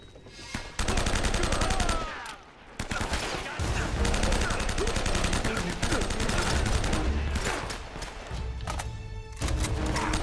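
Rapid gunfire from a weapon in Uncharted: Drake's Fortune Remastered, dense bursts of loud shots filling nearly the whole stretch with only brief pauses, carrying game effects beneath.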